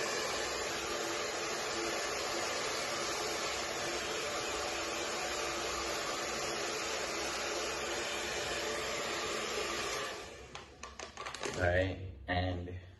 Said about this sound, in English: So we're just blow drying the border.